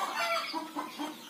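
A kampung super crossbred chicken, an Arab-Bangkok cross, clucks up close in a short run of clear, rising clucks with no talking.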